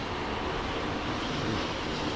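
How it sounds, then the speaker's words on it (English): An airplane flies overhead near Juneau, Alaska, giving a steady, moderately distant engine roar that holds evenly for a couple of seconds with no voices. "I hear another plane right behind it."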